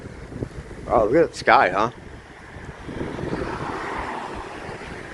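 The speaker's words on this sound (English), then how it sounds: "Nice windy morning here." Wind blows during an early-morning walk in Waikiki, with gusts buffeting the microphone in a low, rushing roar. A person speaks briefly near the start, and the wind swells afterward.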